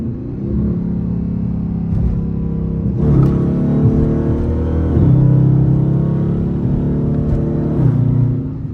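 A Dodge Charger R/T with traction control off revs hard, its loud engine roaring and rumbling close by in a steady drone, rising in pitch with several climbing surges.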